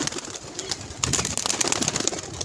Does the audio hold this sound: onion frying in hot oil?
no